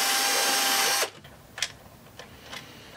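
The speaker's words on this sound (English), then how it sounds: "so I am gonna use a drill there." A power drill boring holes for push buttons in a case runs loud for about a second, then cuts out, followed by a few short scraping and clicking handling sounds.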